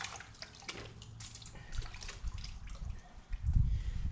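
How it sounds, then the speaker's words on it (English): Tap water running steadily at close range, with splashy bursts as hands are rinsed after filleting trout and red fish, swelling louder toward the end. "washing our hands and drying them."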